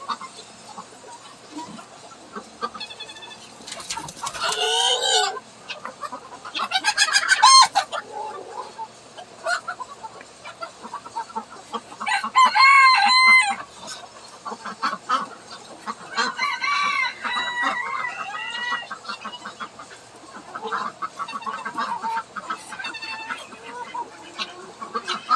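Large free-range chickens cluck and squawk in repeated bursts, with a rooster crowing among them, fairly close, with quieter stretches between the louder calls.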